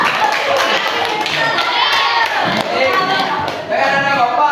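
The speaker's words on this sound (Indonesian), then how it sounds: "Berikan aplaus." A classroom of children applauds quiz winners at a school maths quiz, with dense, loud, sustained clapping close by and a few voices and cheers mixed in.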